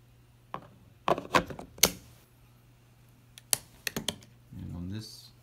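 Screws being removed from a Dell Latitude 12 Rugged Tablet (7202), heard as scattered sharp clicks and small metallic ticks up close, separated by quiet pauses, with a voice speaking briefly near the end.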